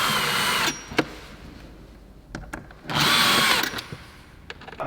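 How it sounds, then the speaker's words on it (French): A power drill or driver runs in two bursts, one short and one longer, while tightening the screws on the plastic housing of a cleaned sport air filter in a vehicle, with a few small clicks and knocks in between. "Et alors vous serrez bien toutes les vis."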